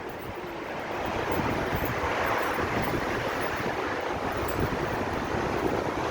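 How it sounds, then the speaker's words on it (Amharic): Wind blowing at night in Abu Dhabi, a steady, fairly loud broadband rush with rumbling microphone buffeting that swells after the first second and holds without pause; no one speaks. "ንፋሱ ደስ ሲል ብታዩ አሁን"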